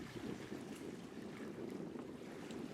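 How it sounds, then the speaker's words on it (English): Wind and water noise aboard a sailing catamaran running under sail with both engines off in about 8 knots of breeze, a steady broadband rush with soft wave wash, continuous and fairly close. "we've got about 8 knots of breeze at the moment, just enough to fill the sails"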